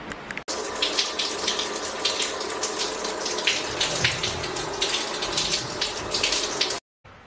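Water runs steadily from a shower, a close, continuous hissing spray that holds for several seconds and then stops abruptly, with no speech.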